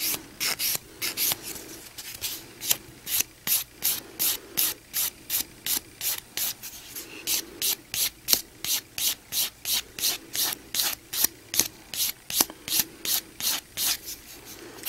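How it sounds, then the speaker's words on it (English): A nail file rasps rhythmically across a sculpted CND Brisa Lite gel nail, steady repeated back-and-forth strokes close up with no talking. "then go through your finish filing motions to set the nail up so that your sculpting goes smoother."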